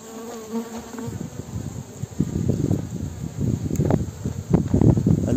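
Honey bees buzzing steadily around an open hive during an August inspection, a dense close swarm drone that swells and thickens after the first second, alone without speech.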